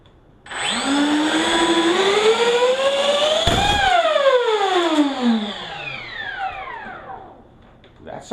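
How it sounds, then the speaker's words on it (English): An electric ducted fan on a twin 70mm RC F-22 jet spools up to a loud rising whine, holds, then sweeps down and fades as the unit fails. "That just blew an EDF unit, I believe."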